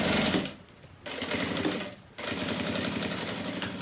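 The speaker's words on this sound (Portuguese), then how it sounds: "eu coloquei aqui, ó, bem certinho, bem alinhado, e vou passar a costura até o final" A sewing machine runs loud and close, stitching along the side of a handmade bag in steady buzzing runs, stopping twice briefly before starting up again.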